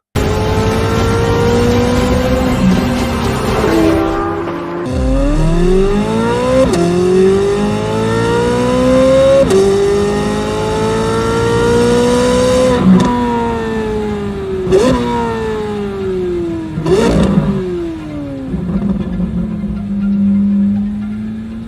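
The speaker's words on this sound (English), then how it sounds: "What will win in a drag race between a Corvette Z06 and a third generation Ford GT?" Loud, high-revving engines of a Corvette Z06 and a third-generation Ford GT accelerate hard in a drag race, repeatedly climbing in pitch and dropping back at each gear shift, with an aggressive roaring exhaust throughout.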